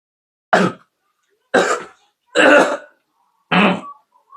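Four harsh coughs, close and loud, spaced about a second apart with silence between them.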